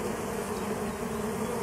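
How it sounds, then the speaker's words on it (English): Bees inside open beehives give off a dense, continuous buzzing hum that fills the whole moment evenly and close by, with no voices over it. "This is what the inside of the hives look like."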